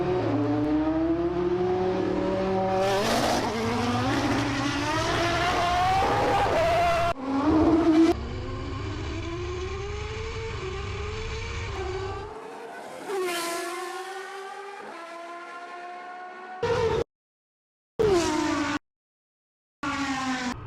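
A Formula 1 car and a Tesla Model S drag race from a rolling start, led by a loud, high engine scream rising through gear after gear with sharp shift breaks, then fading and cutting out in bursts near the end.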